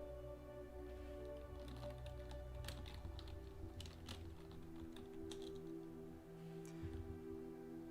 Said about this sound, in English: type in Messier 8